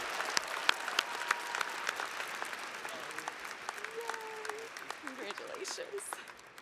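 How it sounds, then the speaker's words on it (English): A commencement audience at Cincinnati State applauds an alumni award recipient, steady moderately distant clapping with individual claps standing out, while a voice speaks briefly over it. "Graduates and friends, please join me in a round of applause for Brandy Ayers, your 2025 recipient of the Distinguished Alumni Award."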